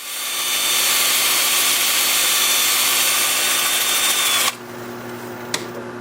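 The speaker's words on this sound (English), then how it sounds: "I'm starting at 180 grit. I've got the lathe spinning forward at 400 RPM." Olive wood dish spinning on a lathe at 400 RPM while being sanded at 180 grit, a steady loud whirring hum with a faint squeal that cuts off abruptly near the end, leaving quiet motor hum.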